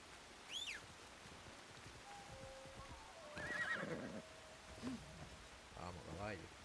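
A horse in Assassin's Creed Shadows whinnies several times in short bursts, faint against quiet ambient game sound with light rustling and a few soft clip-clops.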